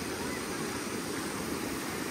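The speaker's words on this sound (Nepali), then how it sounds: "पानी यसरी बगिरहेको छ" Floodwater pours across a paved road in Dharan after an hour of torrential rain, making a steady, dense roar of rushing water that stays loud and unbroken throughout.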